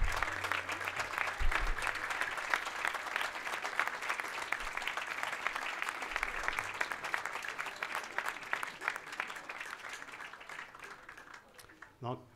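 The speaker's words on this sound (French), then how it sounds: "faut se mettre debout et applaudir vos parents" An audience at a graduation ceremony for a visual arts school in Marrakech gives dense, sustained applause, steady and full for most of its length before thinning toward the end, with a voice cutting in briefly at the close.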